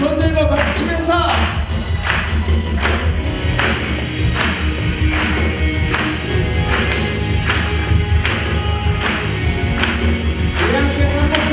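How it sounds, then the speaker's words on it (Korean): A congregation at a Korean church's college-group worship service claps rhythmically in time, steady beats layered over music and singing voices. "손들고 박수 치면서"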